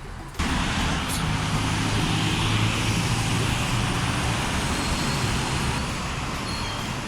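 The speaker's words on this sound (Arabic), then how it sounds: "صوت سيارة حال مزعج." Road traffic noise from passing cars near the Black Sea coast, a loud continuous roar of engines and tyres that starts abruptly and holds steady throughout.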